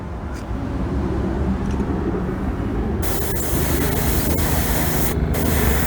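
A spray gun lays wet coats of paint on a custom motorcycle body, a steady airy hiss that starts softer, then swells into a brighter, louder blast partway through, with brief pauses in the spray.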